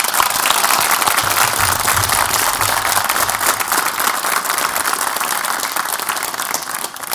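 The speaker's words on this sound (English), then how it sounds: "I would like all of them to give you applause tonight" Loud, sustained applause from a crowd at a sheriff's graduation ceremony, dense continuous clapping filling the whole span with no voices on top and only a slight dip near the end.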